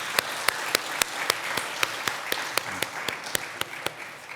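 A church congregation claps for the Gloria choir during a worship service, a brisk regular rhythm of about sixteen sharp claps, loud and close, with no one talking.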